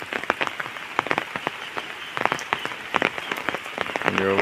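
Irregular pattering of rain drops striking a hard surface nearby, dense and uneven, with a voice starting faintly at the very end.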